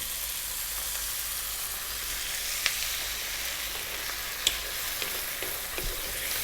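Turkey curry with coconut milk sizzles hard in a pan on high heat, a dense, constant hiss with a few faint clicks from stirring, close and steady, with no one talking.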